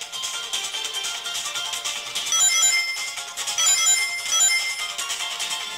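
Sonic Jump game audio playing from an Asus ZenFone 5 smartphone speaker: bright, busy electronic music with chiming jump and ring-collect effects, thin and tinny, steady throughout with no talk.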